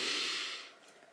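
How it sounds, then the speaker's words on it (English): A single deep breath drawn in, close and soft, lasting about a second and fading at the end. "Calm, calm, breathe. And in"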